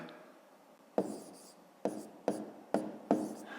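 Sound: writing numbers by hand

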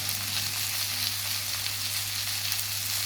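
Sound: okra (bhindi) frying in a pan on low heat

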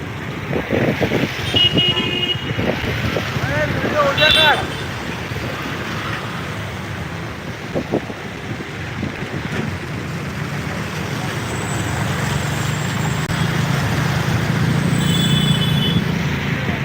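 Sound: traffic on a waterlogged road

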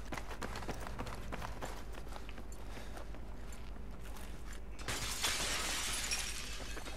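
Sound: many glass windows breaking in the video game Battlefield 3

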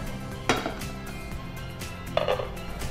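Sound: cooking pot being placed on a gas stove

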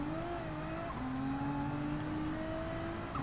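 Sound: race car engine and braking in video game Gran Turismo 7

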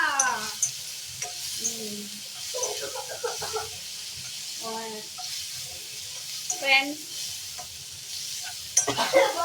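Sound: stirring gongura chutney frying in a pan

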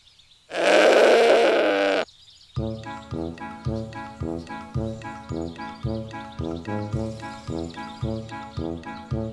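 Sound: animated goat herd bleating

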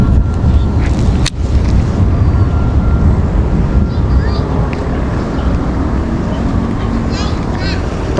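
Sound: wind blowing by a canal

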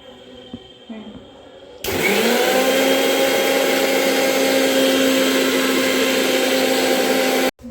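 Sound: mixer grinder blending mint leaves and fennel with water

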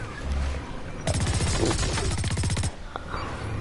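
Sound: machine gun fire in the video game Blacklight Retribution

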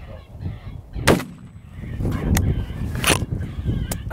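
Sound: shotgun double shot fired while hunting grey fox

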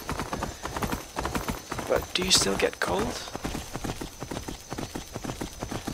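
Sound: horse hooves while riding, from video game Skyrim

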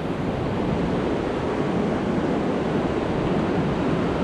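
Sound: Kanjoti waterfall rushing water

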